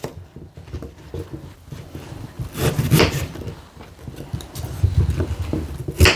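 A knife chops a pumpkin into slices and cubes on a cutting surface, making a series of soft, irregular thuds and knocks close by, with no talk.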